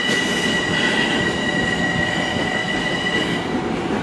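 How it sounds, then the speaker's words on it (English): A Huntington line commuter train passes on Long Island during a thunderstorm warning, a loud steady rumble with metallic wheel squeal ringing high above it, continuous for the whole stretch with no talking. "With another train coming in."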